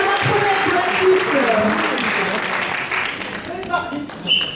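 An improv festival crowd claps steadily for a performing troupe, the applause running throughout while voices talk over it and it thins toward the end.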